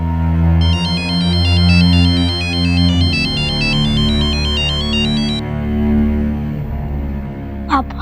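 A phone ringtone plays a repeating electronic melody over a steady music bed, ringing for several seconds and then cutting off without being answered.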